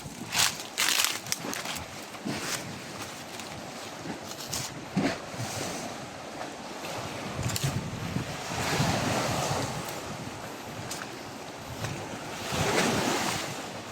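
Sea waves in the open sea, a rolling wash of surf that swells and recedes under strong wind buffeting the microphone, with a faint boat hum beneath and no voices.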